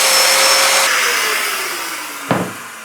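A Domino joiner cutting a mortise in workshop stock gives off a loud, steady high-pitched whine that slowly winds down as it spins off, ending in a short clunk near the close. No voices.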